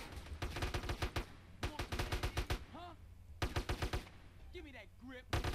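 Gunfire in the video game GTA San Andreas: bursts of rapid automatic shots in several volleys, loud and close, with short lulls between them and brief game sound effects in the gaps.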